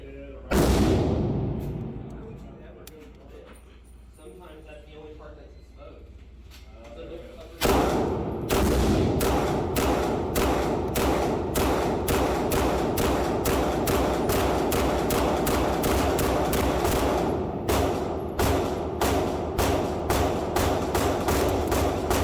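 Handguns, Masterpiece Arms DS9 Hybrid and DS9 Commander 4.25-inch pistols alongside Staccato XC and P models, are fired at a range. A loud shot and a quieter stretch with some talk lead into a long, rapid, evenly spaced string of close, sharp pistol shots.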